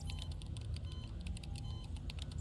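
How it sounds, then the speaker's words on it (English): Rapid soft tapping of fingers on a keyboard inside the Girls' Frontline 2: Exilium game, a steady patter of keystrokes over a low constant machinery hum, with no voices. "fingers striking the keyboard"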